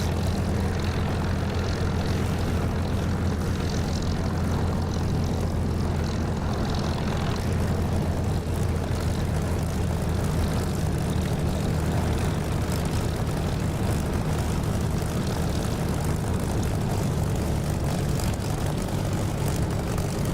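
Military aircraft engine from the DCS flight simulator game taxiing on a taxiway, a steady, loud, unbroken propeller-like drone with a strong low hum that holds throughout, with no talk over it.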